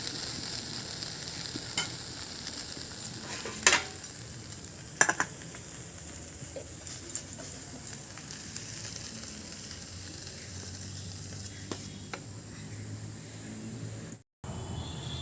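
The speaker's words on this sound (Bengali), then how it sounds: "একদম ভাজা ভাজা করে নিচ্ছি, আর জালটাও কিন্তু খুব জোরেই দিচ্ছি" Taro flower being fried dry in a pan over high heat, a faint, low hiss and sizzle with a few sharp clinks of stirring, then a brief cut to silence near the end.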